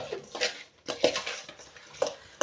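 Lemon pickle is stirred with turmeric in a metal pan, producing a few irregular scraping clanks and knocks of the spoon against the pan, close and fairly clear.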